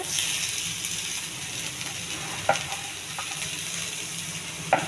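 Onion, cumin and amaranth leaves fry in a little oil, giving a steady close sizzle with a couple of sharp stirring clicks and no talking.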